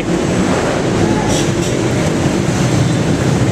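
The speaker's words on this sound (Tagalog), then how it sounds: "nasakay sila lahat sa LRT" An LRT train at Monumento station in Manila during the morning rush hour, heard as a loud, steady roar and rumble of the rail line with a couple of brief higher hisses.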